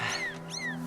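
A cat meows in the video game Zelda Skyward Sword HD, two short rising-falling meows close and clear, with game music humming underneath.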